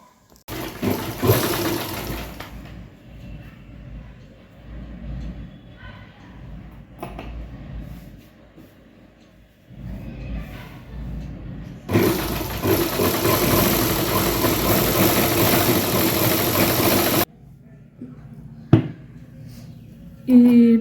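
A sewing machine stitching a dress runs in a loud, steady mechanical whir that starts and stops in bursts, with a voice talking between the runs.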